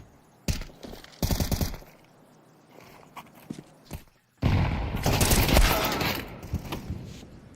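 AK-47 gunfire in Counter-Strike rings out in short close bursts, followed by a longer, louder stretch of rapid overlapping shots near the end.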